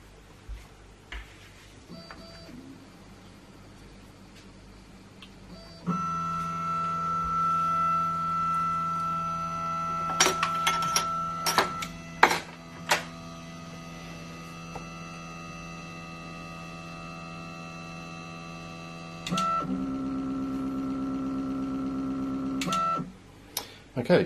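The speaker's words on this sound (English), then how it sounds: "it's going to move the carriage to the front left to zero at this point here" ShapeOko 3 CNC router homing, stepper motors whining in steady tones as the carriage travels, with abrupt shifts in pitch, a few sharp clicks and ticks midway, and a low background hum, close by with no talking.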